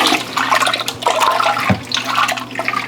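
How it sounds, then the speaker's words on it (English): Hot water at 175 degrees Fahrenheit poured into whey while making Gouda cheese, a loud, close splashing pour with gurgling surges and a few sharp drops, no voices. "I have water here that is 175 degrees Fahrenheit, and what I'm going to do is I'm going to add it"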